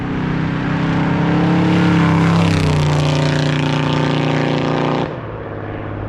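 A 1970 Chevrolet C10 pickup with a ZZ502 GM crate V8 roars loudly under acceleration with a deep, rising engine note, then drops off abruptly as the throttle eases near the end.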